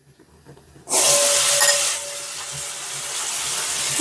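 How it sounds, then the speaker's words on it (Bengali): Taro pieces dropping into hot oil in a pan set off a sudden loud hiss and sizzle that settles into a steady frying sizzle close by. "ছাতু তো ভাজা হয়ে গেল এবার কচুগুলো একটু ভেজে নিতে হবে"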